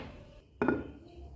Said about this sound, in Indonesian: ini saya lanjutkan untuk ngulek-ngulek bumbu dari telur puyuh sambal